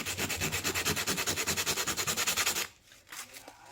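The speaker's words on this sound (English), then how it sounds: "I'm just going to take this sandpaper because it's a higher grit and I need something a little more. And I'm just going to run the shell on it right here." A flat scallop seashell rubbed back and forth on high-grit sandpaper, a fast even rasping rhythm of about twenty close scraping strokes that stops abruptly, followed by a few faint soft rubs.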